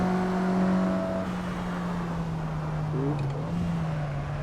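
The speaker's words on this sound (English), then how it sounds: "Let's take her to red line." Simulated car engine in Assetto Corsa driven hard in fourth gear at about 85 mph on LA canyon roads, a steady loud drone that holds its pitch with a brief shift near the end, continuous with no talk.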